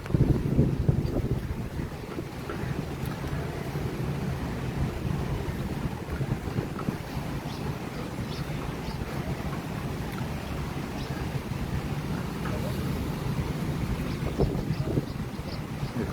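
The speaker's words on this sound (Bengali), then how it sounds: "সাগর ভালোই উত্তাল।" A rough sea churns with heavy wind buffeting the microphone, a dense continuous low rumble of surf and gusts with no break throughout.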